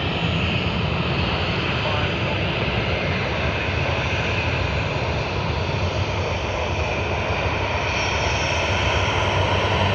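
Airliner in toy-themed livery at Sydney Airport, a steady loud engine roar filling the whole stretch, with people talking over it.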